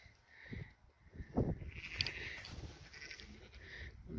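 A sheep bleats faintly at a distance amid quiet outdoor ambience, with a second soft bleat shortly after.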